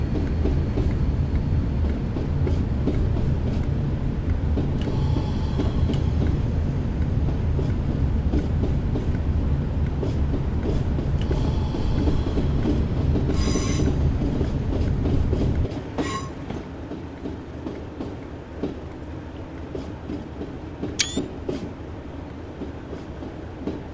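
Class 97 locomotive hauling a railtour train between Norwich and Lowestoft, a loud steady rumble of wheels on rails with rhythmic clickety-clack, easing to a quieter run partway through with a brief squeal.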